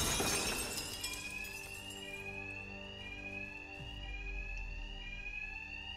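Alarms ringing inside a building in Batman: Arkham Knight, a steady electronic bell-like tone with layered sirens after a brief crash at the start, continuous and moderately loud.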